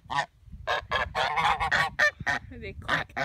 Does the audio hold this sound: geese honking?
yes